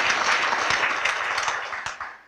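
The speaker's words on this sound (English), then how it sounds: "Yeah, give yourself a round of applause." A banquet audience applauds with dense, close clapping that holds steady and then tapers off toward the end.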